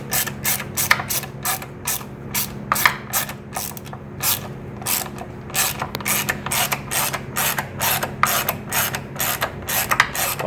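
A ratchet wrench turns a Torx 40 bolt on the rear sets of a 2018 BMW S1000RR motorcycle, making rapid, repeated clicking bursts in a steady back-and-forth rhythm, close and loud.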